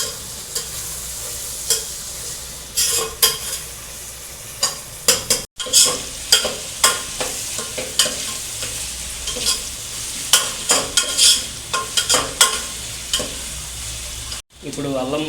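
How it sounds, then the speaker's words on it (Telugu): Ginger garlic paste fries and sizzles in a pan for a chicken curry, with a steady hiss broken by repeated sharp scrapes and clacks of a spoon stirring against the pan, close and clear with no talking. "ఈ అల్లం వెల్లుల్లి పేస్ట్ పచ్చివాసన పోయే వరకు వేపుతూ ఉండాలి, తిప్పి"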